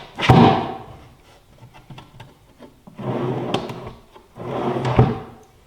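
A handmade wooden drawer slides into a wooden shop tool box with three rough scraping passes, each ending in a soft wooden knock, with quiet gaps between them.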